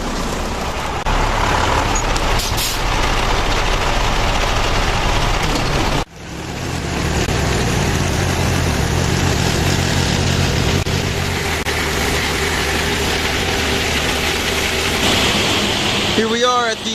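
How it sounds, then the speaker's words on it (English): A loaded truck dumps walnuts over a hauler pit, giving a loud, steady rushing roar with low engine rumble; the flow breaks briefly around six seconds, then resumes and continues throughout. "The truck drives right over this here pit"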